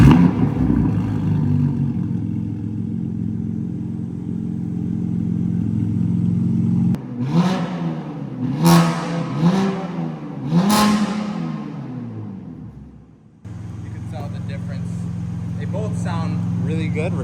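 BMW M4 G82 with the S58 engine: a steady loud drone, then a string of sharp throttle blips rising and falling, then a return to a steady run. Close and prominent throughout.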